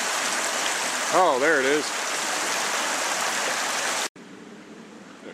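A flowing stream in Dogwood Park rushes with a steady, broadband wash of water, close and continuous, while a voice briefly speaks over it before the sound cuts to a quieter background.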